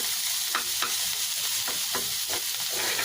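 Freshly picked leafy greens with onion stir-fried in a pan, a continuous close sizzle broken by regular scraping stirs roughly every half second.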